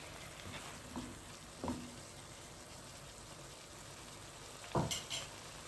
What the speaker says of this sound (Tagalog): Now I'm going to mix my minced chicken.